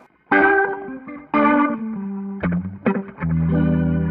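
Electric guitar chords ring out one after another, each wavering with a pulsing, swirling harmonic tremolo effect.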